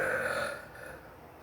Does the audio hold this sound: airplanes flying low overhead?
no